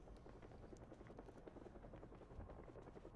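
Helicopter in the survival video game Project Zomboid, a faint, steady rotor drone with soft rhythmic chopping, heard alone with no talk.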